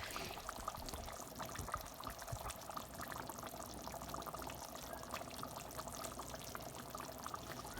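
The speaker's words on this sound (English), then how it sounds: "I'm just adding it straight into the oil and letting it fry up" Tomatillo salsa poured into hot oil for meat cooked in its own juice with bacon sizzles and splatters, a faint, continuous crackling fry with a liquid pouring quality.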